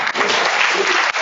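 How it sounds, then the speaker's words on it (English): Lecture audience clapping in a hall, a steady, dense wash of applause from many hands, loud and continuous throughout. "Don't clap too soon."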